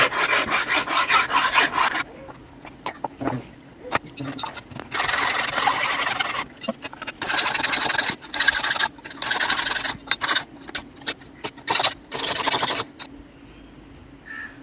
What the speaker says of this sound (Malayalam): ഗ്രൈൻഡ് ചെയ്ത കത്തിയെ അരം കൊണ്ട് രാവി നല്ല ഫിനിഷ് ആക്കേണ്ടതുണ്ട്